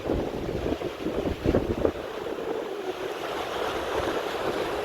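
Sea washing below the naval jetty at Cox's Bazar, a steady roar of wind and waves with rumbling wind buffeting the microphone and small boats nearby.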